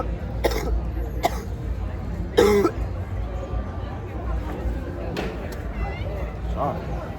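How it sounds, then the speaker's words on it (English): A person coughs several times in short sharp bursts, close to the microphone, amid low background noise, with a louder harsher cough in the middle. "I swear this cough is like annoying"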